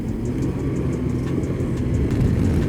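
A 2021 Can-Am Ryker Rally Edition three-wheeler drifts in rally mode, its engine giving a loud, steady rumbling drone, close and continuous, with no talk.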